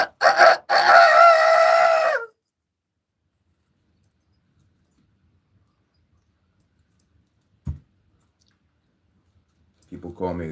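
A person imitates a rooster's crow in one loud, drawn-out, wavering call up close, followed by near silence broken by a single thump and faint voices at the end.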